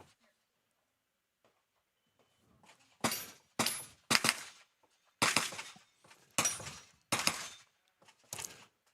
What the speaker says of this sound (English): If you're hearing the sound of the gunshots